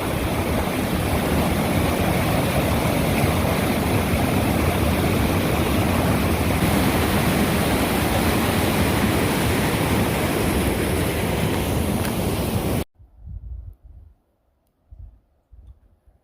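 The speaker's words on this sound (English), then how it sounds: "Beautiful river. Sketchy crossing." A river on the Pacific Crest Trail between Stevens Pass and Snoqualmie, at a sketchy crossing, roars in a loud, steady, close rush of water that cuts off abruptly, leaving a few faint thumps.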